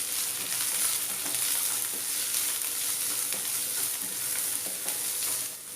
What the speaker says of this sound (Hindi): हमें हमारे प्याज को बहुत ज़्यादा लाल नहीं करना है, इसे बस थोड़ा सा सौटे करना है